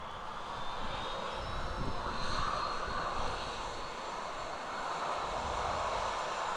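A Ryanair jet airliner's engines at Manchester Airport in wind and rain, a steady broad roar holding at an even level for several seconds, fairly distant with no voices over it.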